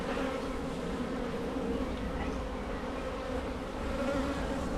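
Honey bees buzz in a steady, dense drone around an open hive being inspected after a swarm, a continuous close hum with no talking.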